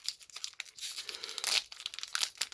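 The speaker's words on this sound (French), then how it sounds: "on va tirer la languette et on va ouvrir ça" A Pokémon card booster pack is torn open by its tab, giving soft, close crinkling and tearing of foil wrapper in quick irregular bursts over a couple of seconds, fairly quiet and with no talk.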